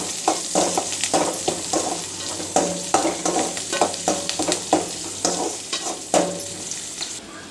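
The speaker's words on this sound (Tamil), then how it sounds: "இப்போ நம்ம வெங்காயம் சேர்த்தாச்சு வெங்காயம் நல்லா வதக்கிக்கலாம்" Onions sautéing with popped mustard seeds in a pan, a steady close sizzle broken by repeated scraping stirs in an uneven rhythm, with no talking.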